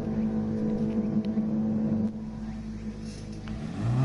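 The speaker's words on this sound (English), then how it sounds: "How's the engine sound compared to the voiceover?" A car engine in Gran Turismo Sport drones steadily at moderate level, a sustained tonal hum that shifts slightly in pitch near the end as it revs.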